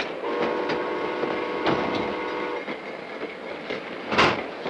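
A passenger train rolls along the rails in a 1952 film-noir scene, with a steady rumble, rhythmic clicking of wheels over joints and a sustained tonal hum, fairly close and without talk.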